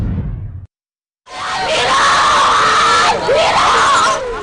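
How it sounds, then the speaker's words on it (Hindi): Loud, anguished screaming and wailing from several people after Pakistani shelling struck a home in Rajouri, Jammu and Kashmir, rising after a brief silence and continuing in overlapping cries. "हर तरफ चीखे ही चीखे"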